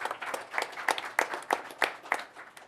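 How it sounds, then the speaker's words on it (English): Audience applause at a boxing press conference for Andy Ruiz vs Anthony Joshua II, heard as fairly steady, rhythmic clapping with sharp repeated claps, moderately loud and close, with no talk over it. "Let's have a round of applause."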